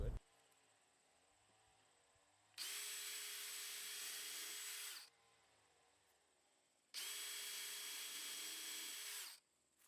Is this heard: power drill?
yes